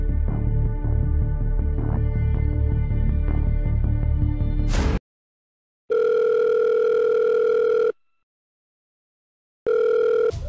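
Music plays, then cuts off and a mobile phone ringback tone sounds in long steady beeps separated by silence, heard twice.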